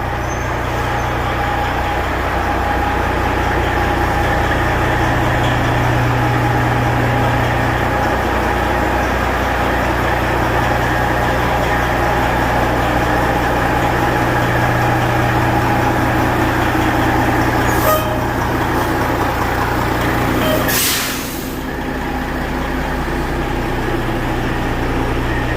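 A rebuilt Peterbilt 379 truck engine idles loud and steady at close range with a deep continuous rumble, broken near the end by a short hiss like an air brake release.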